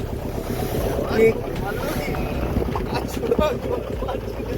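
A boat rocking side to side through rough, splashing water in the Sundarbans, heading toward the Bay of Bengal, with steady broadband water rush and wind buffeting the microphone, and voices talking underneath.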